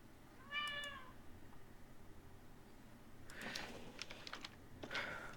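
A cat gives one clear meow early on, followed by a burst of keyboard typing clicks, all close in a quiet indoor room.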